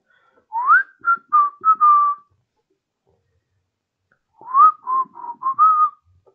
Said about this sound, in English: I'm bad at whistling.